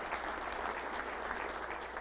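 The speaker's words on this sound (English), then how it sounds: "Let's give a round of applause to Steve Sullivan for all our video intros." Soft, distant applause from a banquet audience at a Little Rock Touchdown Club luncheon, an even patter of clapping that continues steadily throughout without voices.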